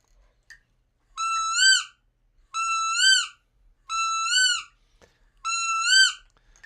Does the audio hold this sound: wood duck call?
yes